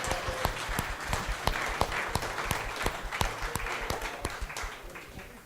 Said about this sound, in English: Give him a big round of applause right there.